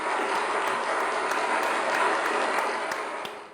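An audience clapping on a late-night comedy talk show, a dense, steady wash of applause that carries on throughout and tapers slightly at the end, with no voices over it.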